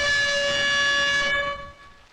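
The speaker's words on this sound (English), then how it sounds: "Air horn." A truck's air horn in a driving video game blares as one loud, steady multi-tone chord, held for over a second before cutting off and trailing away.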